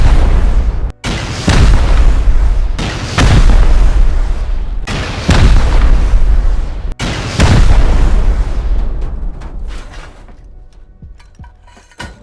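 Rocket explosions in Rust during a base raid: four heavy, close booms spaced a couple of seconds apart, each with a crashing roar that rings out and fades into a quieter rattling tail.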